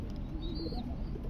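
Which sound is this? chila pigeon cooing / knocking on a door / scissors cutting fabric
chila pigeon cooing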